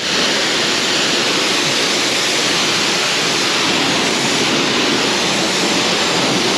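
Water sprays steadily over a Ford Bronco during a rinse, a loud, close, unbroken hiss with no pauses.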